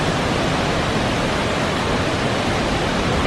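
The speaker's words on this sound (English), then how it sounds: "So we stopped to look at the waterfall" Naga Falls, a Himalayan waterfall, roars in a loud, constant wash of rushing water, heard close with no voices.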